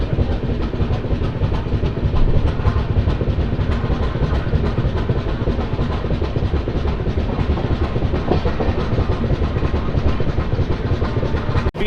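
Steady, loud rumble and clatter of the Janmabhoomi Superfast Express (12806) rolling along the rails at speed near a station stop, continuous wheel noise filling the whole stretch without voices.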